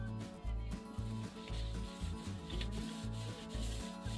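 A paint roller spreads wood stain across a wooden surface in a quick back-and-forth rhythm of soft rasping strokes, about two per second, close by and with no talk.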